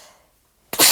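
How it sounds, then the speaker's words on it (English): An abrupt, loud sneeze bursts in near the end after a faint fading murmur and near silence. "that was a sneeze"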